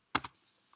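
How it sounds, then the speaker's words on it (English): Keys on a computer keyboard are struck to enter a download command: a few sharp, close clicks, two quick taps together then one more after a short pause, with no voice. "To download the code, you type in the command"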